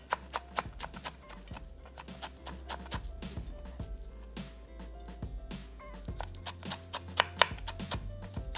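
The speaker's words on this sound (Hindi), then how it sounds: "इन तमाम चीज़ों को आपने बारीक चॉप कर लीजिएगा।" A knife chops finely through coriander, mint and green onion on a board, with steady quick taps that keep going throughout, close and crisp, over a soft backdrop of music.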